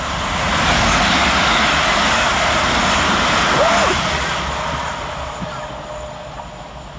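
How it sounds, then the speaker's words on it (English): Class 387 electric trains pass Hanwell station on the fast lines with a loud, steady rushing roar that swells and then slowly fades, heard close with no talk. "Next on the fast lines is 387171 and 387169."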